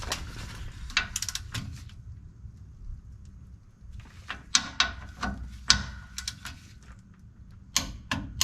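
A torque wrench tightens the rear differential plug on a 2006 Toyota Tundra V6 4.0L, producing clusters of close metallic ratcheting clicks separated by quieter pauses, with no speech.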